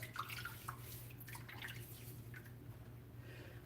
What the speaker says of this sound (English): let's throw a little bit of water on the head